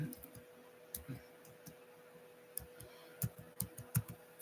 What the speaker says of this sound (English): I'm typing to Terry.